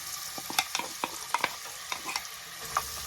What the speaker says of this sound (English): Oil has heated up. I'm just gonna put in my rosemary just to infuse, and then in goes the onions.